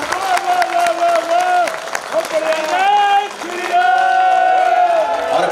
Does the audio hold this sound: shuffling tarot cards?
no